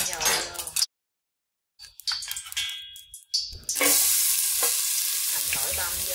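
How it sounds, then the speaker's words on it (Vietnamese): Minced shallots and garlic fry in hot oil in a pan for a homemade Thai-style hot pot broth, a loud steady sizzle with stirring and clinks of the utensil against the pan, while people talk nearby. "Cho dầu vô."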